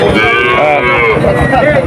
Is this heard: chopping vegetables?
no